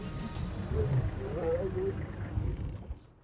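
Lions roaring in the wild during a hunt, a few deep rumbling roars and growls close by, rising and falling over a couple of seconds.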